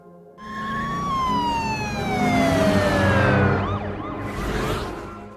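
Police car sirens wail loudly during a chase, several sweeping tones gliding downward together and then breaking into rapid rising-and-falling yelps, with no voices.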